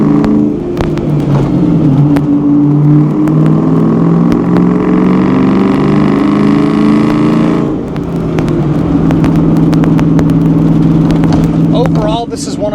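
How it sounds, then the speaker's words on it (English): A loud 1994 Ford Mustang Cobra drives along with a throaty engine note that shifts pitch as revs rise and fall, close and prominent, with a brief dip midway. "Car is a little loud, so we won't get on it too hard to upset the neighbors."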